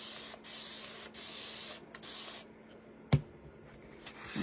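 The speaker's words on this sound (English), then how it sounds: "I'm going to spray this again." Spray bottle misting a chalk couture board, several close hissing bursts of water a second or so apart, then a quiet stretch broken by a sharp knock.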